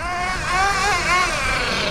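A Duratrax RTX-27 Big Block nitro RC car from 2007 with a two-speed transmission screams at high revs, its pitch rising and falling as it speeds up and slows down, loud and continuous.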